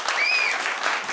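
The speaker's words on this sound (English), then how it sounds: "Give him a clap." Studio audience applause at a comedy show, a short burst of many hands clapping, fairly loud and close, with a brief tonal whistle-like sweep over it.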